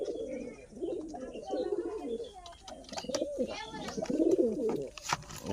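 Pigeons coo repeatedly at close range, overlapping throaty murmurs rising and falling in a steady, busy chorus from the flock.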